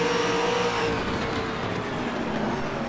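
V8 Supercars engine drone in the rFactor racing game, a steady, fairly distant roar that dips slightly as the cars go past, with no talk.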